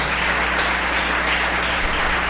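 Church congregation applauding, a dense, even wash of many hands clapping at once, loud and continuous with no talk over it.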